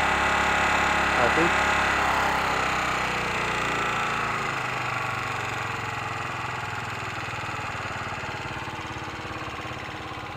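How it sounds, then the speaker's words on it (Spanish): A motorcycle engine idles fast and steady on its own while the carburetor idle screw is adjusted, a close continuous mechanical drone with a voice speaking briefly over it. "ya que la moto está muy acelerada, ¿sí ven? Sin acelerarle yo nada"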